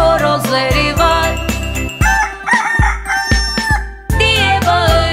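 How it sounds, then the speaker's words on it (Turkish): A rooster crows over the music of a children's farm song, its cock-a-doodle-doo calls sounding loud and up front against bright, bouncy instrumental accompaniment. "Çiftliğinde horozları var"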